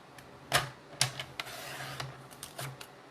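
A paper trimmer cutting a piece of card for a shaker card, a few sharp clicks and clacks with short scraping slides in between, close and crisp with no talk.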